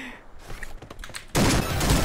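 Sniper rifle fire in the Point Blank shooter game, a sudden loud burst of shots after a quieter stretch with a voice speaking.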